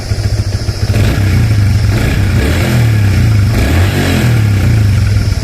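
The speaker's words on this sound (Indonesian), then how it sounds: "Terus kita coba geber." A 2014 Yamaha Vixion NVL motorcycle engine idling loudly up close, then revved a few times, the pitch rising and falling with each throttle blip.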